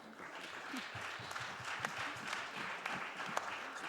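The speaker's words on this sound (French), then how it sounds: "Je ne sais pas qui ils applaudissent" Scattered applause from the audience at a round-table session on healthcare professions sounds moderately distant and uneven, with individual claps standing out over a soft background murmur.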